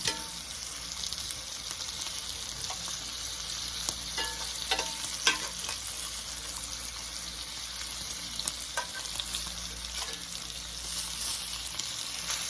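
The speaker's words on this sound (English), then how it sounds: "I'm just gonna turn our bacon. See, nice and golden color." Bacon sizzles and crackles steadily in a pan for a one-pot full English breakfast, with a dense hiss throughout and occasional sharper pops and scrapes as it is turned, no talking.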